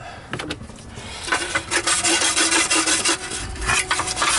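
A brush scrubs a Kirby vacuum part wet with laundry detergent, giving close, loud, rhythmic rasping strokes that grow steadier and more vigorous after a few tentative rubs.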